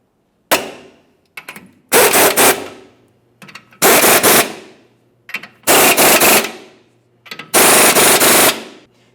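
An impact wrench snugs the leveling kit mounting nuts on a 1999-2006 Chevrolet Silverado 1500, firing loud, close bursts of rapid hammering, five main bursts with short gaps and a few brief taps between.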